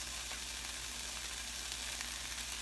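Minced onions fry in melted butter in a pan, a dense, even sizzle that holds steady and close throughout without pause.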